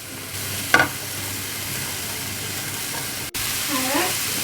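Onions and leeks sweat in a pan over medium heat, giving a soft continuous sizzle with a brief stirring scrape and a faint voice near the end.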